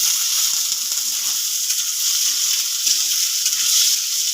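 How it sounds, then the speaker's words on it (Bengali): Potato pieces tipped into a pan of lightly fried onions sizzle steadily, a close, continuous frying hiss with no talk. "পেঁয়াজটা হালকা করে একটু ভাজা হয়ে গেছে, আলুগুলো দিয়ে দেবো।"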